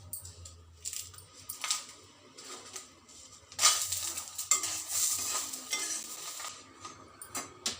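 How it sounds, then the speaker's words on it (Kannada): Chillies roasted and stirred in a pan, with repeated light clinks and scrapes of a spoon against the metal and a faint dry sizzle, close and uneven in rhythm. "ಈಗ ಮೆಣಸಿನಕಾಯಿ ಹಾಕಿ ಹುರಿತೀನಿ."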